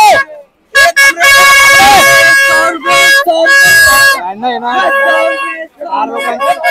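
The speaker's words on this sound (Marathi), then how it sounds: "म्हणून ते भोंगा वाजवत निघाले" Horns blare in repeated long honks during a Navratri jatra procession in Kalyan, loud and close, broken by short gaps, with people shouting and talking between and under the blasts.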